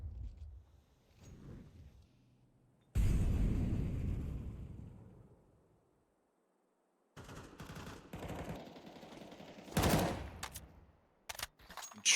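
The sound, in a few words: gunshots in a video game match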